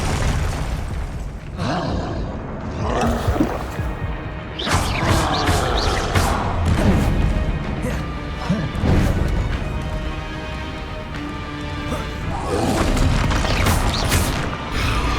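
Spell blasts from Bombarda and Confringo in Hogwarts Legacy, a run of loud crashing booms and bursts in quick succession over a busy game soundscape, a few separate impacts standing out over about fifteen seconds.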